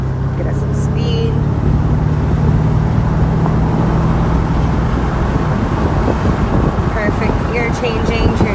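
Engine of a 2000 Chevrolet Corvette building speed on the road, a steady loud drone with low rumble running throughout, heard from inside the car with some faint high-pitched noise near the start and end.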